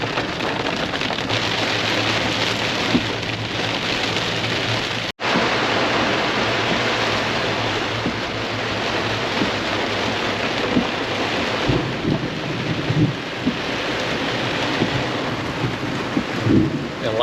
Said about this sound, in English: Lightning is striking all around me. I just had two lightning strikes just right by the truck.